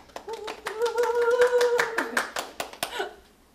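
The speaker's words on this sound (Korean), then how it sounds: "조금 더 세게 박수 쳐주면 안 될까요?" Hand clapping at a rehearsal of an original stage play made in Jeju: sharp, uneven claps of a few hands ring out up close while a voice sustains a melodic tone through the middle.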